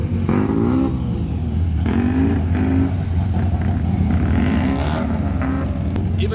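Car driving past on the Nürburgring, a continuous engine drone with rising revs and a low rumble, close and steady throughout with some clatter, no talking.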